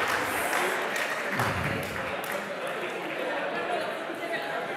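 Clapping from a seated audience at a music session, steady and fairly dense throughout, with voices and chatter mixed in under it.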